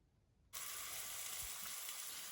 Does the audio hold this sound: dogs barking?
no